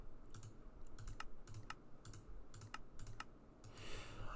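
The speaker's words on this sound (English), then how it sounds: "I have to be able to type as well." Rapid, steady keystrokes on a computer keyboard, close and distinct, with brief pauses between short bursts of clicks and no talking.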